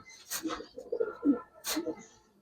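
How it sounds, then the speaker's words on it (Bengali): A snake-eyed Giribaz pigeon in a loft gives a few soft, low coos in short separate bursts, fairly close but quiet. "এই দেখেন ভাই মাশাআল্লাহ সাপ চোখের কবুতর"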